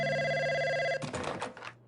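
A telephone rings with a bright, steady electronic trill for about a second, then cuts off into a brief clatter.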